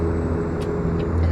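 A Brockway logging truck engine hums at a low, steady pitch while driving in American Truck Simulator, with brief airy hisses over the drone.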